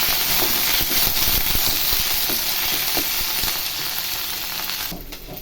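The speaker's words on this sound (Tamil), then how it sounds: "கொத்தமல்லி இலை, போட்டு நல்லா இந்த எண்ணெயில் வதக்கிடலாம்." Curry leaves and coriander leaves sautéing in hot oil for lemon rasam give a steady, close, loud sizzle throughout, with faint stirring clicks and a brief dip near the end.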